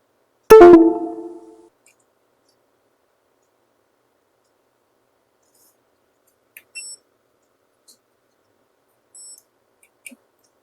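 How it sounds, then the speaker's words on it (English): A soldering iron warming up, giving a few short, high electronic beeps spaced several seconds apart, faint against near silence. A single sharp, resonant knock sounds at the start. "That beeping, if you can hear it on camera, is just the soldering iron warming up."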